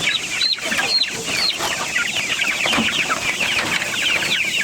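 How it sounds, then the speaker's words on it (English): A flock of meat chickens clucks continuously in the fall, many overlapping chirpy clucks and squawks close by, busy and fairly loud, with no clear talking. "There's a chicken."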